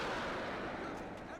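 A javelin missile launched at a damaged tank in the wargame Combat Mission: Shock Force, a sustained roaring blast of launch and flight noise, loud and dense throughout, with a voice faintly under it.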